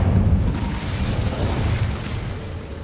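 A fire spell blast in Hogwarts Legacy makes a loud, close, rumbling whoosh of flame with a deep burst at the start that roars on steadily, with no talk over it.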